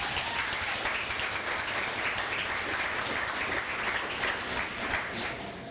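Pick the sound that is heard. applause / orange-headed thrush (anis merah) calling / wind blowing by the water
applause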